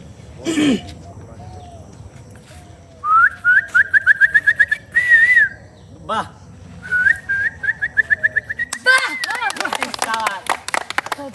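A person whistles in rapid trilling bursts imitating a bird call, with brief exclamations and other voices in between.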